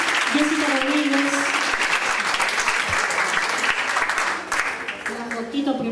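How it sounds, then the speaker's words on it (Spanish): Loud applause from an audience at a Latin American reading comprehension congress, dense continuous clapping from start to finish, with a voice speaking over it. "Fuertes aplausos, Jessica Rodríguez."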